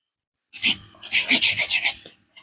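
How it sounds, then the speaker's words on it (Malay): A newly bought hand saw cuts through wood, making one short rasping stroke and then a run of about six quick, rhythmic back-and-forth strokes, close and loud. "Hari ni saya belilah satu lagi gergaji."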